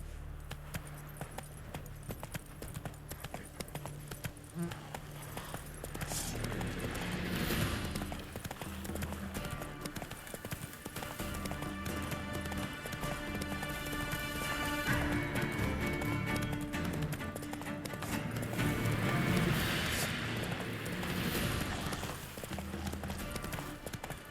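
In The Witcher 3, Geralt's horse Roach gallops with a continuous rhythmic clip-clop of hooves and tack jangling lightly, swelling louder at times over ambient game sound.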